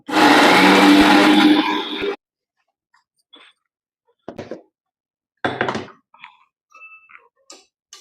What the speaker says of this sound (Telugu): ఎండుమిరపకాయలు ఎండు కొబ్బరి జీలకర్ర చక్కగా మిక్సీ పట్టేసేసుకోవాలి